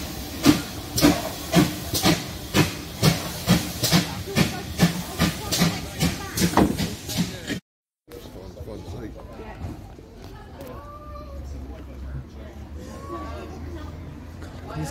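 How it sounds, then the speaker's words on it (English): A train hisses nearby in a sustained, loud rush, with rapid rhythmic pulsing clatter for several seconds. Then a sudden cut leads to quieter rumbling and faint background sounds. "The White Vic train."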